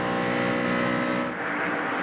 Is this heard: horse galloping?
no